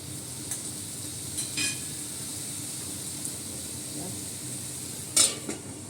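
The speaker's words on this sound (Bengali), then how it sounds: "আলুটা একটু ভাজা ভাজা হোক।" Potato pieces fry in a pan as the base for a potato and eggplant dish, giving a soft, steady sizzle with occasional spatula scrapes and clinks near the end.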